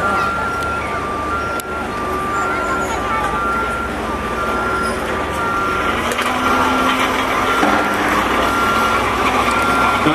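Heavy excavator crushing two junked cars, a continuous loud grinding mass of crunching metal and engine drone with intermittent beeping tones, close and unbroken throughout.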